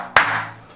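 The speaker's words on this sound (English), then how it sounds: "he won't animate until we clap" A single sharp hand clap used to trigger a STEM programmable building robot, close and loud, with a short ringing decay in a quiet room.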